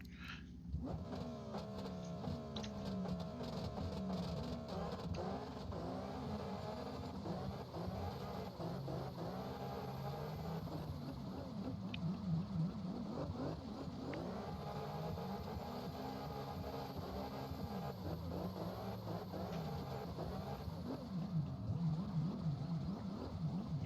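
Engine of a drift car in CarX Drift Racing Online 2, held in third gear, wailing and rising and falling in pitch in repeated sweeps, faint and continuous throughout.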